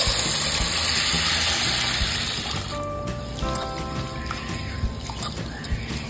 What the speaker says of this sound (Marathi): 2 ते 3 पाण्याने आता ही डाळ आपण धुवून घेऊ स्वच्छ